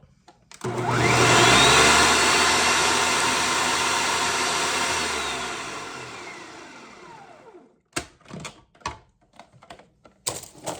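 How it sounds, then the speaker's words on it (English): An appliance blends dried greens down to a powder, a loud whirring roar that starts abruptly, holds for about five seconds while slowly fading, then stops, followed by scattered close taps and rattles of handling. "You can see how quickly that chops down to a nice powder."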